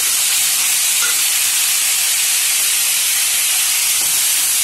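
Vegetable pieces tipped into hot oil tempering for a raw banana curry, a loud, steady, broadband sizzle and hiss that holds evenly throughout with no talk.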